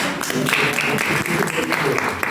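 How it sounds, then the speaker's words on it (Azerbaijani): An audience applauds a student group at a gathering, with dense steady clapping close by and voices mixed into it. "Alqışlayaq bu qrupu."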